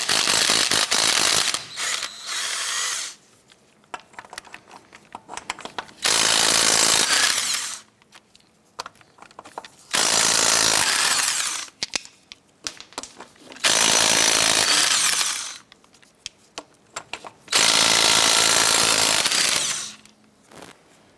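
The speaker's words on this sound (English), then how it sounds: "Using a 19 millimeter socket, go ahead, loosen and remove the lug nuts." A power impact tool loosens and spins off the wheel lug nuts on a 1994–2004 Chevrolet S10 with a 19 mm socket. Five loud, buzzing rattling bursts of a few seconds each are separated by quieter clinks and handling noises.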